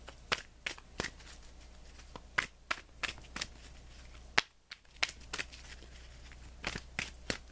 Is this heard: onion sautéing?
no